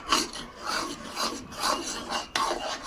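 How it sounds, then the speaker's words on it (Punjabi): A ladle scraping and stirring semolina in a wok for gulab jamun: rhythmic rasping strokes, about six in under three seconds, close and fairly clear with no talk. "ਉਦੋਂ ਤੱਕ ਆਪਾਂ ਇਹਨੂੰ ਸੂਜੀ ਨੂੰ ਕੜਛੀ ਮਾਰੀ ਜਾਣੀ"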